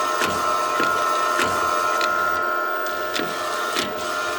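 A Procolored DTF printer runs a print job, giving a steady mechanical hum with a whine held at several tones and periodic clicks and knocks as the print head carriage travels back and forth.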